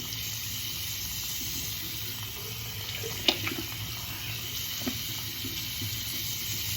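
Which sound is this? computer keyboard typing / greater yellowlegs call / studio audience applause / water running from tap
water running from tap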